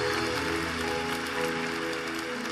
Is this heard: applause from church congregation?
yes